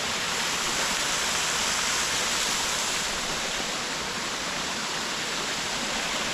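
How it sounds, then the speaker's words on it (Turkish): Kurşunlu waterfall in Antalya pours down in a steady, loud, dense rush of falling water that fills the whole stretch without a break. "gördüğünüz gibi su buradan aşağıya doğru düşüyor"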